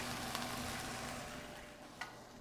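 Lamb pieces searing in a hot pan for rogan josh, a steady, faint sizzle and frying hiss with a couple of brief crackles and pops, and no talking.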